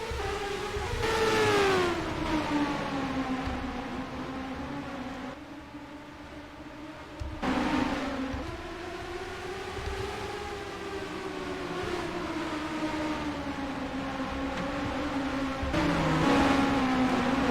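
IndyCar race cars accelerating at the green flag at Lime Rock Park in the NR2003 racing game, loud high engine whines rising and falling in pitch, with several overlapping cars and abrupt shifts.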